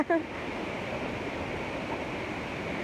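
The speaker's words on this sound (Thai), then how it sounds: "น้ำตกตาโตนที่อำเภอเมืองจังหวัดชัยภูมิค่ะ" Tat Ton waterfall in Mueang district, Chaiyaphum, Thailand, running with a modest flow, gives a steady, unbroken rush of falling water that stays close and even throughout.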